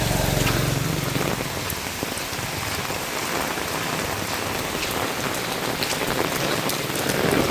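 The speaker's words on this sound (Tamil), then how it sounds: "இப்போ தான் திடீர் மழை" Sudden heavy rain during the Sri Lanka floods pours down steadily on surfaces, a dense, continuous hiss of drops with occasional louder splashes, close and unbroken.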